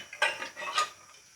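A metal pot is set down inside a pressure cooker of heating water, ready to steam wheat-flour dough for chakli: two close, bright metallic clanks about half a second apart, with a light scrape between.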